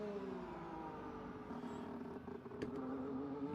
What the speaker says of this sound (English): I love the sound out of the exhaust, especially when they go off throttle.